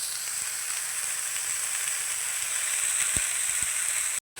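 Kohlrabi sizzling in a pan, an even, close hiss of frying with a couple of faint taps, cut off briefly near the end.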